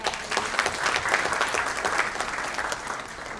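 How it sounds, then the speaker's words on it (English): Audience applause at a real estate expo panel discussion in Mumbai, a dense steady round of many hands clapping, fairly loud and sustained throughout with no voices on top. "Can we have a huge round of applause for"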